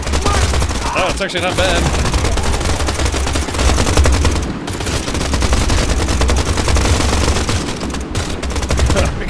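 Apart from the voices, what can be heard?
pistol gunshots in the video game Pioner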